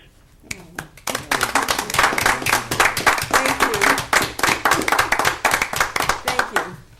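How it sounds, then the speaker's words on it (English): Warm applause breaks out at a township committee meeting after a short quiet start, many hands clapping steadily and densely for several seconds in a meeting room. "I'd like to give Kenya a big round of applause"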